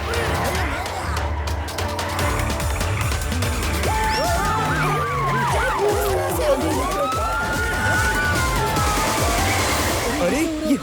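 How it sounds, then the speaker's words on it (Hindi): A police siren in a Hindi cartoon wails in rising and falling sweeps through a busy animated scene. Music and effects fill the background, and it sounds continuous and fairly loud for the full length. "ये तो पुलिस का सायरन है"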